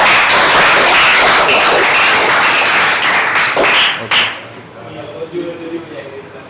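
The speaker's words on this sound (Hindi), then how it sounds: "इनके लिए तालियां बजाओ, बजाओ तालियां, जोर बजाओ" Students in a Class 10 trigonometry classroom clap loudly and densely for a classmate for about four seconds, then the clapping cuts off, leaving faint room noise and a few soft knocks.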